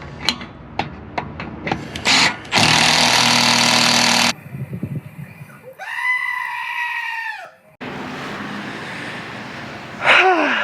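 Power tool gun working on exhaust muffler bolts of a Honda Element, several short sharp bursts followed by a long loud continuous rattling run, then whirring and a rising mechanical whine with quieter gaps between.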